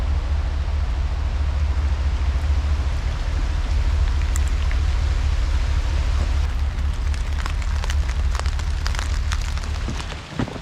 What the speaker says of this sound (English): let the rain slow down a little, because we are getting drenched